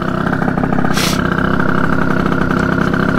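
A motorcycle engine on a ride to school, a loud, close, steady buzzing drone with a brief rush of wind noise partway through.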